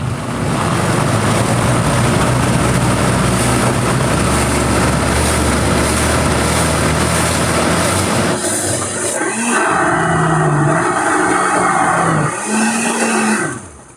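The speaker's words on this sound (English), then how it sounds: "blender" A loud blender motor roars steadily for several seconds while making salsa roja, then the pitch shifts and pulses as the whirring changes speed, running close by.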